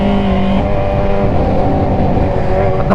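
Kawasaki Z1000 motorcycle fitted with an Orion exhaust pipe, its engine running steadily and loudly close by on a street, a sustained throaty drone with slight swells and no speech.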